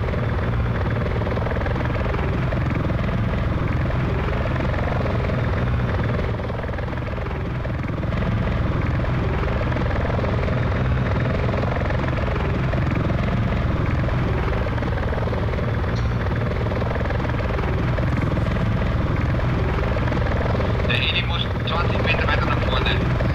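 A helicopter in the video game Arma 3 drones continuously and loudly with a steady rotor thrum throughout, never letting up.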